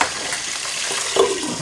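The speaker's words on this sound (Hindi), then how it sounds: "थोड़ा सा हल्का सा फ्राई करेंगे," Capsicum and onion cubes sizzle in a cooking pot for kadai chicken, a steady, close, moderately loud frying hiss with a brief louder crackle near the end and no talking.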